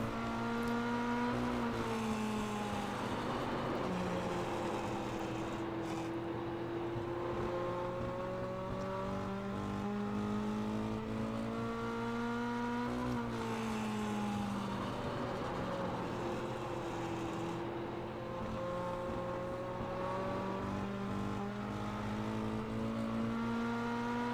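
Mini stock race cars lap a track at Thompson late in a race, engines droning and rising in pitch as they pass, a steady loud roar of several cars close together with no talking.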